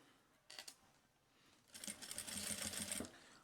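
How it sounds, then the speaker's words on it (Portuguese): A sewing machine stitches fabric with folded bias binding for a placemat, giving a brief burst of stitching, a pause, then a longer steady run of rapid close-up whirring that stops abruptly. "agora eu vou começar a costurar com o viés dobrado"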